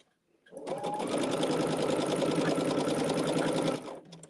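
Sewing machine stitching fabric pieces, a steady close whirring run that starts abruptly, holds level for about three seconds, then stops.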